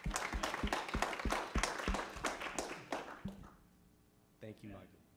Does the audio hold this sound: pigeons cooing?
no